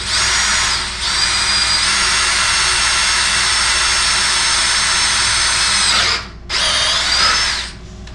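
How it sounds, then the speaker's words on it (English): A power drill whines steadily at close range for several seconds drilling a pilot hole on a Willys lowrider build, stops briefly, then spins up again for a shorter burst before cutting off. "So we're gonna drill us a pilot hole right there."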